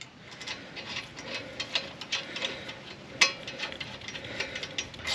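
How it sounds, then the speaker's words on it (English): A bolt threaded back into a seized or sticking brake caliper, giving a string of light, rapid metallic ticks and clicks like a ratchet, close up and fairly quiet with no talking. "we're just going to thread it right back in"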